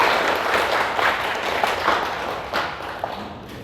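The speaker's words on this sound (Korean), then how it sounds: "다시 한번 박수로 하나님께 영광 올려드리겠습니다." A church congregation breaks into applause, a broad, even patter of many hands that starts full and slowly tapers off, with no talking over it.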